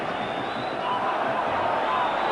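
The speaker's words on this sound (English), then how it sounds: "this huge crowd again getting right behind" A huge football stadium crowd roars behind Rangers in a 1992–93 Champions League match against Marseille, a dense, distant wash of cheering and babble that swells slightly, with a commentator talking over it.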